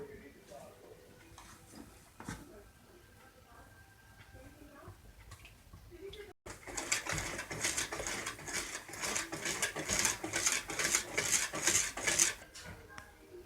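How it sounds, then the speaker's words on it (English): Eggs and vanilla are whisked in a bowl for homemade brownies, a rapid rhythmic clatter of the whisk against the bowl that starts after quiet talk and carries on loud and busy. "Now I need to whisk in 4 large eggs and 2 teaspoons of vanilla."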